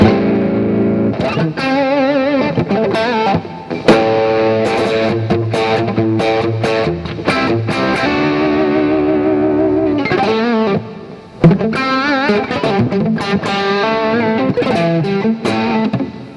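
Distorted electric guitar, a Squier Classic Vibe Telecaster, plays chords and riffs loudly and steadily through its pickup, with a thick, effected tone and sustained notes.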